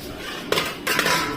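Metal plates and utensils clink twice, close by, as rice and a fried egg omelette are served at a home dinner, with a faint background hum and no voices.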